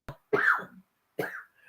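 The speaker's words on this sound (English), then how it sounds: "My wife has asthma, and unfortunately, it creates a cough." An adult with asthma coughs nearby, a short hack followed by two harsher, raspy coughs separated by brief silence, with no talk in between.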